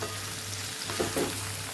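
A ridge gourd and potato curry cooks in spiced oil with chilli powder and coriander-cumin powder. It makes a soft, steady sizzle with a low hum, and a couple of brief stirring scrapes come near the end.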